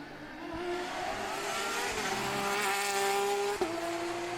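A race car's transmission whines loudly in rising and falling tones during acceleration, then gives a sharp break in pitch as it downshifts.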